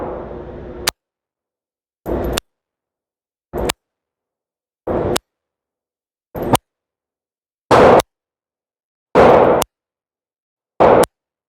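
A PSA AK-E AK-47 rifle firing at an outdoor range, a series of about eight loud single shots with pauses of one to two seconds between them, each a sharp crack with a short echo.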